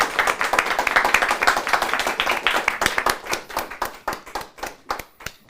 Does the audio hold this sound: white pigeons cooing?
no